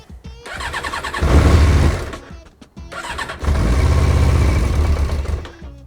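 A Yamaha XJ 600 motorcycle engine cranks in two long bursts with a short pause between them, loud and close, whirring without catching or firing up.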